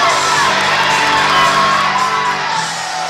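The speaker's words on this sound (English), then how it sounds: "A huge crowd in Bryan tonight." A big crowd packs the gym at a Bryan high school girls basketball game against Liberty Center, sending up loud sustained cheering, whoops and yells that stay steady throughout.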